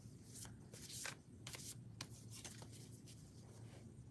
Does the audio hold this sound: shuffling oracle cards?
yes